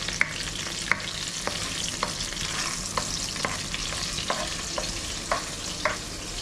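Garlic frying in a pan while being stirred toward golden brown, a steady sizzle broken by regular clicks of a spoon against the pan roughly every half second, no one speaking.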